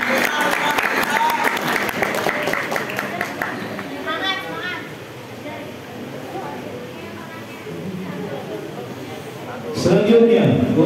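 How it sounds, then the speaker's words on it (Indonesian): Audience applause at an Islamic quiz competition: a lively burst of crowd clapping at the start that thins into chatter and murmuring, with a louder stir of voices near the end. "Berikan tepuk tangan yang meriah untuk menentukan dewan C"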